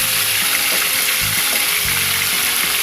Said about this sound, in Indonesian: Goreng semua ya sampai habis ya bu ya.